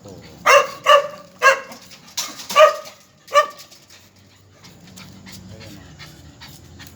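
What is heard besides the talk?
pet dogs panting while being fed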